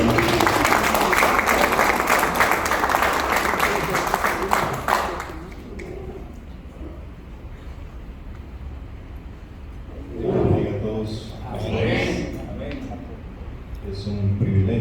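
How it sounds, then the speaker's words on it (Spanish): An evangelical church congregation claps loudly and steadily for about five seconds, then the applause drops away into quieter room noise as a voice speaks and brief murmurs follow. "Denle un fuerte aplauso al Señor"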